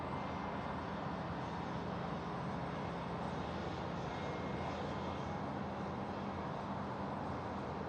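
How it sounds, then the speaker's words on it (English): Airbus A380 on final approach to runway 34 left at Sydney Airport, a broad, steady jet roar holding level throughout at a moderate distance, with no voices over it. "the A380 now on final runway 34 left"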